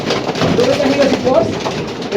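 Racing pigeons in a loft cooing, soft throaty coos repeating close by over a busy background of movement and chatter.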